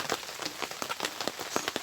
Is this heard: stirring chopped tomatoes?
no